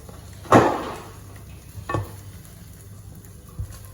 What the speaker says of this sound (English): Fold the egg from the side. Fold this one as well. Fold it from each side.